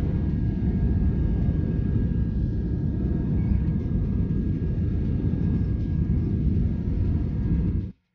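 Cabin noise of a passenger airplane departing Boracay, a steady loud low-frequency engine roar heard from a window seat, cutting off abruptly at the end.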